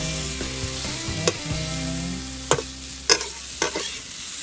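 Pork belly frying in a pan for salt-roasted pork, a steady sizzle under several sharp scraping knocks of a utensil against the pan at irregular intervals.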